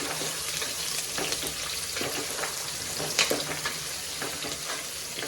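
Finely chopped onions fry in hot oil in a pan for chicken biryani, a constant crackling sizzle with occasional scrapes and stirring sounds, close and moderately loud.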